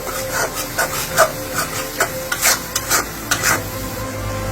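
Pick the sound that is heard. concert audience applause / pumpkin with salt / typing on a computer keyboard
pumpkin with salt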